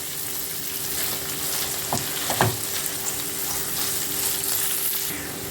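A yogurt mixture sizzles steadily in a frying pan and is stirred well, with a constant hiss and a couple of short scraping strokes in the middle.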